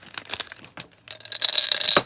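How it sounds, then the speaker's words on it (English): Mothballs drop into a plastic bag, producing rustling, crinkling plastic with a few small clicks and taps, close and moderately loud. "I'm just going to try to drop 3 of the mothballs in this bag."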